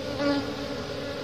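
Honey bees buzz around a hive with their queen at an Indonesian bee farm, giving a brief, close, continuous droning hum with no talk over it.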